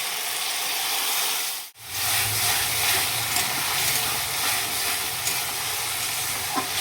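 Spiced masala with cashew and white mustard paste sizzles in hot oil, a steady close hiss broken by a brief sharp drop in sound, then frying on with soft stirring scrapes and no talk.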